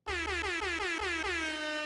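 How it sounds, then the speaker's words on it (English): An air horn blares in one sustained, loud blast lasting nearly two seconds, its harmonic tones wavering with a slight pulsing rhythm, alone with no voices. "Had to hit that air horn."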